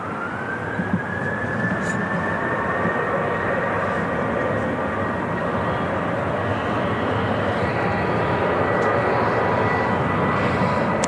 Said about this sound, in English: There goes the KLM 73, departing for Amsterdam Schiphol.